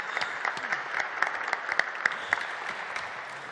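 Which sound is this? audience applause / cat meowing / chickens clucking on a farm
audience applause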